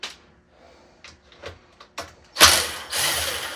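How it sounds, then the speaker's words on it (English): An impact wrench removes T25 screws from the gas tank of a Ryobi gas weed whacker, with scattered clicks and short bumps, then loud rattling bursts near the end. "now we're going to use our impact wrench just to remove this gas tank"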